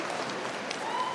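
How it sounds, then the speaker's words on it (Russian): Crowd applause at a Shlemenko Fighting Championship MMA event after a three-round fight, a steady, even clatter of clapping throughout a short moment. "Николай Гончарова приветствует аплодисментами."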